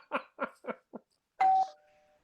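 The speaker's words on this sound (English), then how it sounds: "did you ring the doorbell again?" A doorbell gives a single ding-dong chime near the end, after a few soft knocking-like taps, fairly quiet and clear, with no talking over it.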